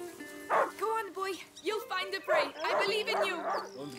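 A dog in the video game A Plague Tale: Innocence yips, whimpers and barks in short bursts, close and fairly loud, with a voice talking alongside.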